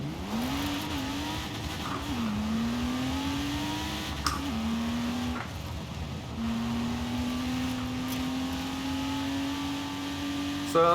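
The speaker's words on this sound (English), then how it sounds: "this car does sound pretty good. Especially when you're just letting it idle down" A Porsche sports car engine in Forza Horizon 4 idles with a steady low hum, pitch drifting slightly and dipping briefly, a few faint clicks over it, no talking.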